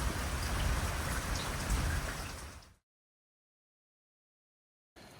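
Steady rain pattering on a wet hiking trail at the start of Mahoosic Notch in Southern Maine, a dense close hiss for nearly three seconds before cutting to silence, then resuming briefly at the end.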